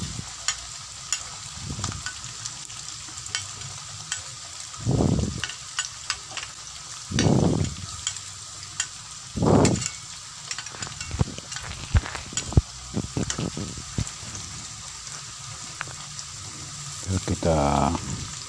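Shallots, garlic and green chili sizzle steadily in hot oil while a spatula stirs them, with periodic louder scraping and tossing strokes and occasional low voice murmurs beneath the constant frying hiss.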